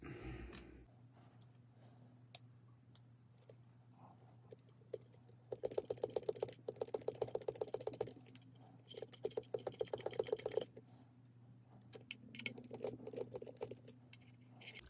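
Fiberglass pencil scrubbing the commutator of a model locomotive motor from a 1959 Revell New Haven switcher, heard as rapid close scratchy strokes in bursts, densest in the middle, over a steady low hum.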